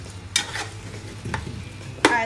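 Filipino adobo with bay leaves is stirred in a sizzling pan, a soft frying hiss broken by three sharp utensil scrapes against the pan.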